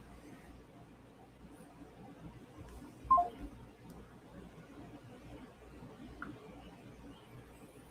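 A couple of brief touch-tone keypad beeps from a telephone dialing a number sound during a call, a short tone near the middle and a fainter one later, over low background noise.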